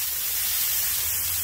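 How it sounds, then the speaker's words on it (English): Chicken in a smoker being sprayed: a steady, close hiss of spray that runs without a break for about a second and a half. "Let me spray the chicken a little more."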